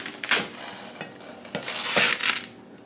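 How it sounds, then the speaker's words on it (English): A freshly washed pan on a stovetop gives off a burst of sizzling, crackling hisses that swell and fade several times over a few seconds, fairly close and loud with no talking. "Just washed my pan and they're making funky noises over here"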